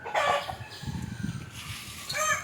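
Nearby native country chickens cluck and squawk in short, irregular bursts, with a few sharper high calls at the start and end.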